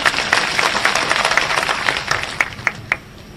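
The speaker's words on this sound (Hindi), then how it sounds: "जरा जोरदार ताली बजाओ तो एक बार।" A crowd at a political rally in Madhya Pradesh applauds loudly, with dense, steady clapping and a few sharper claps standing out. The applause fades toward the end, and no one speaks over it.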